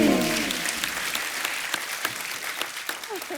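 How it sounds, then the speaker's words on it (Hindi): A studio audience at a comedy talk show breaks into dense, sustained applause, loud and steady at first and tapering slightly, with scattered individual claps standing out and a faint voice underneath. "जोरदार तालियां होनी चाहिए"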